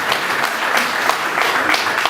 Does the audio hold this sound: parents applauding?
yes